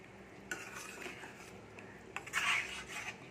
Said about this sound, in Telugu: ఒకసారి బాగా కలిపి